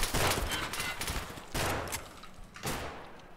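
Shotgun blasts in the shooter game Escape from Tarkov Arena, three loud booming shots at roughly one-second intervals, each with a decaying tail, close and dominant with no talk.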